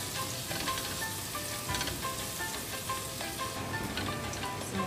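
Minced garlic fries in butter and oil, giving off a dense, steady sizzle with soft crackles and pops that runs close and unbroken throughout.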